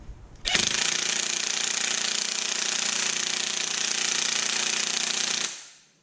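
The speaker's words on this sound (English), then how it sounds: "if you've got a torque gun, put it on its medium setting" A torque gun on its medium setting hammers wheel nuts onto a stud of a classic Mini, a loud continuous rattling impact burst lasting about five seconds, starting abruptly and then cutting off, with no talking.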